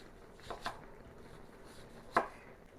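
A knife cutting an onion into rounds on a board, two or three soft isolated chops close by in a quiet kitchen.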